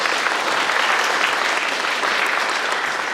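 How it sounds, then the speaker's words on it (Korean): Steady, dense applause fills a civic town-hall meeting in Yeondong-myeon, Sejong, welcoming the city's mayor, continuous and even throughout with no break. "환영의 박수 부탁드립니다."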